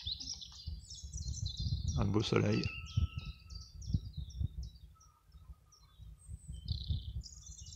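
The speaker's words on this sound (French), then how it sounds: "on sent les oiseaux" Several birds chirp and sing in a sunny forest, high repeated notes that sound close and clear, while someone speaks briefly over them.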